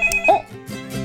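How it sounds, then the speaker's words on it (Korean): A toy telephone rings with a bright, tonal electronic chime, a short burst of repeating ringer notes at moderate loudness with no talking. "전화가 오네."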